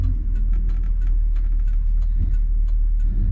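1966 Ford Galaxie 500 convertible cruising through neighborhood streets, a steady low engine rumble heard from inside with constant road noise and no voices.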